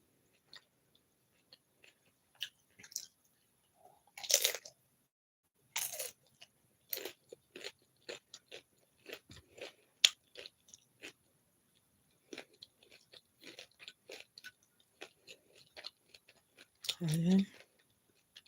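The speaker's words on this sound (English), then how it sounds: "That's like the perfect bite. Shell, meat, cheese, lettuce, cream, onion" Someone bites and chews a crunchy taco filled with meat, cheese, lettuce, cream and onion, with scattered crisp crunches and snaps spread through a quiet stretch.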